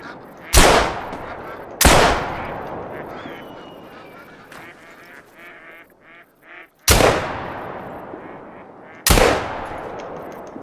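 Four loud, sharp shotgun blasts at ducks during a duck hunt, in two pairs a few seconds apart, each with a reverberant decay across open ground and quieter rustling between them.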